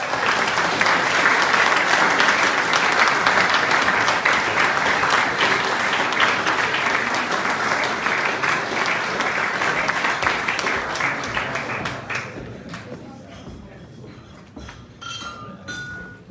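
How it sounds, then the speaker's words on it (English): A banquet-hall crowd at a sports awards night applauds an award winner in a dense, loud sustained burst that gradually thins and fades toward the end, with a few glass clinks and scattered claps lingering. "Would you please give a big round of applause for the winner of this award"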